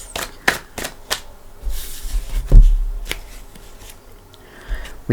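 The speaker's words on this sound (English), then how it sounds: "I'm going to shuffle." Tarot cards shuffled by hand in quick, crisp bursts: sharp riffling snaps and flutters spaced across several seconds, close and clear with a soft thump in the middle and no talking.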